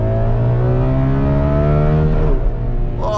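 A Ferrari 12Cilindri V12 engine roars loudly and continuously at high revs, heard from the driver's seat, its pitch climbing steadily before a quick gear change drops the tone.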